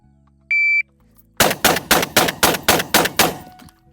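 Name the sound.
gunshots from 12 gauge semi-auto shotgun and AR rifle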